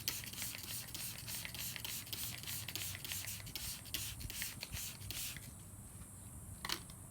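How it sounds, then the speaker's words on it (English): All-purpose cleaner is sprayed onto car carpet in soft, quiet bursts, mixed with light scratchy rubbing and handling noises close to the microphone, ending with a brief clearer spray hiss. "I'm going to spray it with this Nonsense. It's basically an all-purpose cleaner, and it does work on carpet as well"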